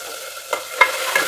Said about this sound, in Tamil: இப்போ வந்து முந்திரியெல்லாம் பாருங்கள் நல்லாவே வறுபட்டுடுச்சு